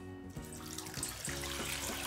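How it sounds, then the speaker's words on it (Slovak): Tap water runs into a pot of potatoes in a home kitchen, a steady close stream for about two seconds with a few clinks of the pot, no voices. "Zemiaky sme si vložili do hrnca a zalievame ich vodou."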